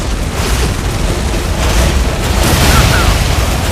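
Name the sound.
artillery fire explosions in the video game Tom Clancy's EndWar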